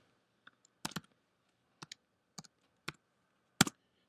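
Sparse, separate keystrokes on a computer keyboard as answer choices are entered into a quiz: about seven short, crisp taps in small pairs, close and fairly quiet against a silent background.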